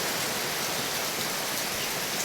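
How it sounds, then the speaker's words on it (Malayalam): Heavy rain pours steadily in a dense, even hiss of drops striking surfaces, constant and enveloping, with no voices over it. "നല്ല മഴ കേട്ടോ"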